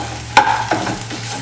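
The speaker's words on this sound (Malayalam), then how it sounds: "ഒന്ന് ജസ്റ്റ് ഒന്ന് ഇളക്കി കൊടുക്കണം." Fried brinjal being stirred in a pan: one sharp scrape or clatter of the spoon, then a soft ongoing sizzle with a few lighter stirring touches, close and alone.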